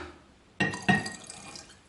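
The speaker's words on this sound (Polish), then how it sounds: "Tyleśmy dolali, proszę Państwa, wody przygotowanej, ostudzonej do naszego spirytusu." Cooled, prepared water poured into spirit in a glass vessel, two short splashing pours with a bright liquid drip quality, close and fairly clear, then a fading trickle.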